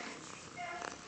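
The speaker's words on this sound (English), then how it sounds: "You got the purrs going." A cat purrs in a soft, low, continuous rumble, very close and faint, while being cuddled.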